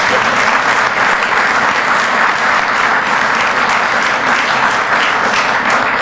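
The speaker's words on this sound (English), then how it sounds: "One more round of applause for our panelists today." An audience at a downtown update meeting applauds its panelists with steady, dense clapping that stays loud and even throughout, with no talking over it.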